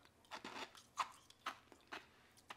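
Small pellets of nugget ice from a Gevi household ice maker crunched between teeth, several sharp, close, quiet crunches at an uneven chewing rhythm.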